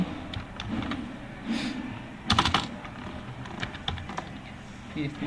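PHP code is being typed on a computer keyboard, with quick irregular key clicks and a few louder clustered strikes, alongside a voice talking intermittently.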